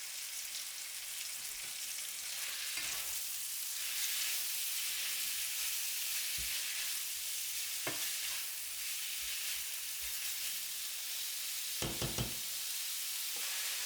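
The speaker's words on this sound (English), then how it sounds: "Sauté the onion and meat together until the meat is browned." Chopped onion and ground turkey sautéing in a pan, a steady close hiss of frying with occasional scrapes and clicks of stirring, no talking.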